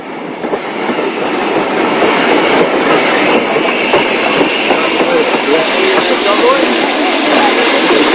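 An 0-6-0 steam locomotive trails a train on a private railway, running steadily along the rails, its loud continuous rumble and rhythmic clatter of wheels filling the whole clip.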